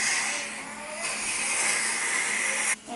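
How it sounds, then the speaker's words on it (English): Heavy downpour drumming on a parked car's roof and windows, heard from inside the cabin as a loud, steady broadband wash that continues throughout with no one speaking. "I'm sitting in the car and it is pouring down rain right now."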